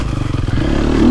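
A KTM 250 SX-F four-stroke single-cylinder dirt bike engine revs up, its pitch climbing steadily toward the end, close and loud with some clattering, out in the woods.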